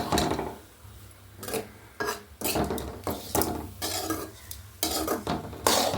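A spoon scrapes and stirs grated coconut roasting in a pan with salt, curry leaves, ginger, green chilli and black pepper, giving repeated scraping strokes with brief pauses between them over a faint sizzle.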